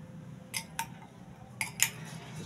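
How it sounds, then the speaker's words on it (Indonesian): A spoon stirs a homemade ice cream mixture of granulated sugar and sweetened condensed milk in a pot on an unlit stove, giving several quick, bright metallic clinks and scrapes in two short bursts. "Ini kita aduk dulu."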